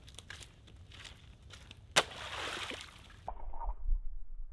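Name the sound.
AK-47 rifle submerged in water, bubbling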